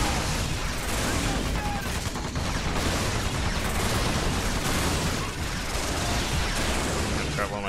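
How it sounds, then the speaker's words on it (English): Assault rifle fire in the video game Earth Defence Force, a dense, continuous roar of rapid shots and explosions filling the whole clip, loud and sustained with no break. "I'll use my mildly effective assault rifle on them."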